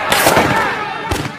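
Gunshots in a prison scene from the comedy film Big Stan as a boss fires on inmates: a couple of sharp, loud bursts close together, then another shot about a second later, with some voice sound mixed in.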